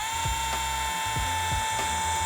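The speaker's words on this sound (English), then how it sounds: "You wanna start at a low speed with the rotary" A mini rotary polisher with a microfiber cutting pad and cutting compound runs at low speed, giving a steady whine with a tonal hum. Soft periodic thumps and scrapes come as the pad moves back and forth, and there is no talking.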